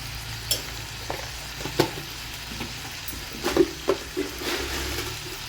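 Tomatoes and onions with a little turmeric sizzle gently in a pan on low heat, a soft steady frying hiss punctuated by a few light clinks and scrapes of stirring.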